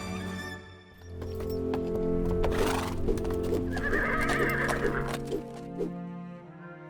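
A horse whinnies loudly while hooves clip-clop in a steady rhythm close by, with faint clucking of fowl in the background.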